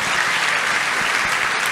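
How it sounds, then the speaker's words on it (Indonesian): A church congregation at a worship service claps in a loud, continuous wash of applause that holds steady throughout. "Tepuk tangan yang paling meriah dulu buat Tuhan."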